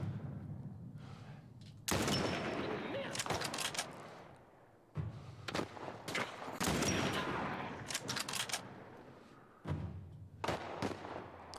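Bursts of gunfire in The Last of Us video game, repeated volleys of sharp shots and clatter in several clusters, loud and close, with quiet gaps between.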